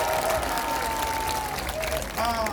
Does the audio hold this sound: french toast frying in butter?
no